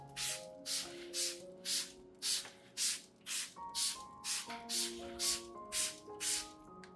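A hand spray bottle mists orchid leaves in a rapid series of about a dozen short, close hissing puffs, evenly paced, with soft music underneath.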